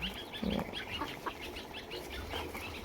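Village chickens cluck and squawk in short, agitated bursts close by as they are caught for vaccination, with some flapping and shuffling around them.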